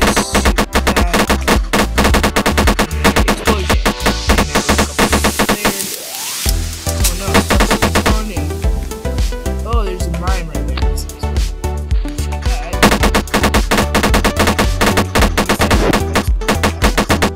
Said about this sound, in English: I have to shoot this.